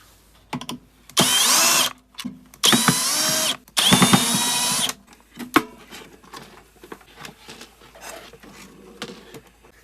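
A power drill runs in three bursts of roughly a second each while an air fryer that won't power on is taken apart, followed by fainter clicks and handling noises of loose parts and screws.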